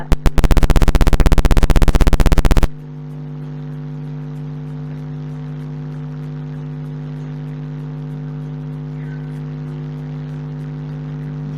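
A small motor in an Arduino gas leak detector project whirs steadily for about nine seconds, faint and continuous after a loud buzzing sounder cuts off at the start.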